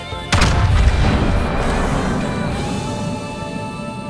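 A torpedo hit in World of Warships lands as a single heavy boom early on, followed by a long rumbling decay of the explosion, loud and close with no speech.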